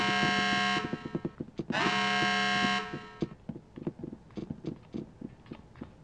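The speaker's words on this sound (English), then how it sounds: "Someone sound the alarm!" Alarm sounding in the video game Red Faction, a loud harsh buzzing tone in two long blasts, followed by scattered clanks and impact noises.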